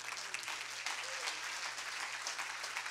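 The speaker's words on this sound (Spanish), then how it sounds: "Aplauda al Señor." Congregation applauding the Lord during a sermon on the Resurrection, a continuous rush of clapping from many hands that holds a fairly even level throughout, with a faint low hum underneath.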